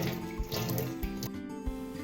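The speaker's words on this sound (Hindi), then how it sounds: "अब मैं इसको अच्छी तरह से धोऊंगी" Mustard greens being washed in a bowl of water, with sloshing and splashing pulses at a steady, fairly close level.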